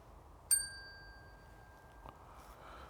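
A small hand bell set down in Blyth Links Cemetery during a ghost hunt gives one clear ding that rings on for about a second and a half before fading into a quiet outdoor hush.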